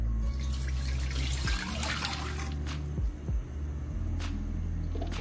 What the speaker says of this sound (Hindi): शीरा बनाने के लिए एक देगची में 2 कप पानी लेंगे।